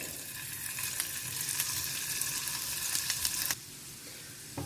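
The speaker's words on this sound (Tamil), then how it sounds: "நான் பன்னீர் எல்லாத்தையும் இதில் வறுத்து எடுத்துக்கிறேன்" Paneer cubes fry in melted butter in a pan, giving a soft, even sizzle with light stirring taps that drops to a quieter hiss partway through.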